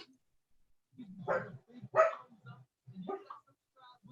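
A small dog barks in a few separate sharp yips and woofs spaced over several seconds, fairly close and moderately loud against a quiet background.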